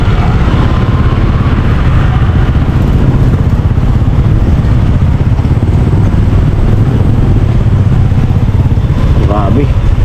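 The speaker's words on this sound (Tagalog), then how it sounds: "Pati motor traffic na." Motorcycles and other vehicles crawl through heavy traffic in San Fernando, Camarines Sur, as a loud, constant engine roar and rumble that fills the whole stretch, with a voice heard over it.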